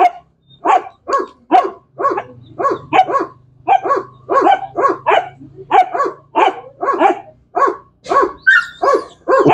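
Max the dog barks in a rapid series of about twenty sharp, close barks with brief gaps, loud and alone, with a faint low hum underneath.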